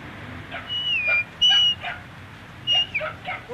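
A dog whimpers in high thin whines broken by a few short yips and barks, close by over a low background rumble.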